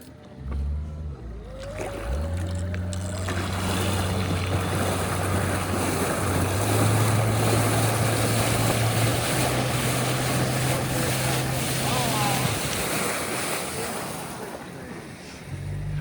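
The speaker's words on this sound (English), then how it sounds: "Well, it rides the waves." A small electric boat's motor whirs steadily over splashing, churning lake water, with waves slapping around it for most of the stretch before it fades out.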